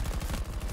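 Rapid automatic gunfire from the video game Battlefield 2042, a steady burst of evenly spaced loud shots filling the whole moment with no talk over it.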